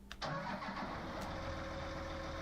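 A tractor engine in Farming Simulator 19 cranks briefly, then catches and settles into a steady, close, loud idle with no talking over it.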